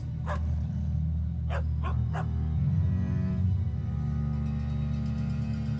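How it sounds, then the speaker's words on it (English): A cartoonish pet dog in Magic: The Gathering Arena gives a few short yips and barks, separated by pauses, over a steady droning game music bed. "I like their dog pet."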